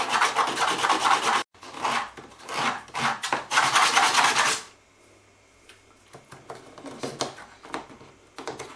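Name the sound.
sanding wooden dulcimer mold with 120 grit sandpaper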